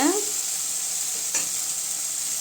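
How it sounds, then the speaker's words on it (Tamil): Tomatoes sauté in a pan with a steady, close hiss of sizzling oil, broken by a couple of quick scrapes of a stirring spoon. "தக்காளி நல்லா வதங்கிருச்சுங்க"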